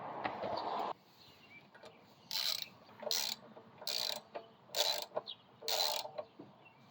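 Short bursts of metallic ratcheting as a wrench tightens two 10mm nuts on an exhaust adapter for a Coleman CT200U-EX trike, five clicking spells separated by pauses, close and moderately quiet with a faint ambient background.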